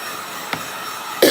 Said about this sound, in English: There goes that cough.